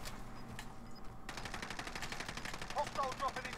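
Rapid automatic Oden rifle gunfire rattles in a Warzone match, starting after a quieter opening and continuing as fast, even bursts, fairly faint, with voices in the background.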